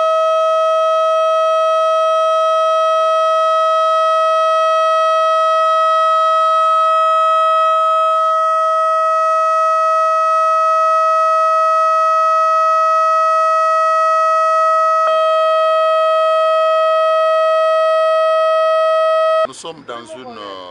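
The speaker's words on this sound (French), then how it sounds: "On va aller vers la sirène pour que l'autorité puisse activer la sirène." A civil defense volcano eruption warning siren in Goma, set up for Nyiragongo, sounds during a drill as a loud, steady, unwavering tone for about twenty seconds. It then cuts off and people are heard talking.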